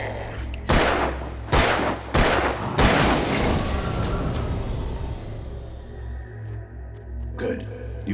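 Gunfire in the Alan Wake video game: several loud, sharp shots in an uneven sequence over the first three seconds, each trailing into a rumbling reverberant tail, then fading into a low droning ambience.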